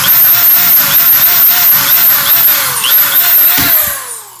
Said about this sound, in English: So you can see that drill bit, that head is now coming off.